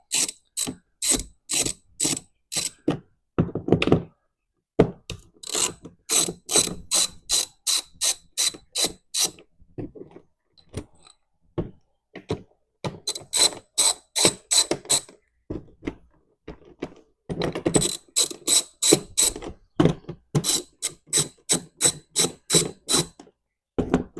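A 5/16 ratchet wrench backs screws out of the cover on a Harbor Freight Predator 9500 generator, sounding as crisp, evenly spaced clicking runs in several long bursts with short pauses between, close and clear.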